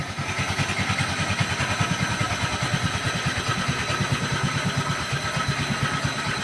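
A late-1960s or 1970s Heathkit Boonie Bike minibike, smoking and in rough condition, runs at a steady idle, its small single-cylinder engine thumping rapidly and evenly up close with a loud mechanical rattle throughout.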